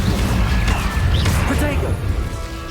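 The Incendio fire spell is cast in Hogwarts Legacy during a fight: loud, crashing bursts of flame and impact noise, with whooshing effects layered over the game's combat sounds.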